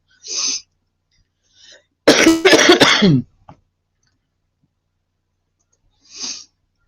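A short burst of harsh coughing and throat clearing, close by, with a couple of brief breathy coughs before and after; no talking.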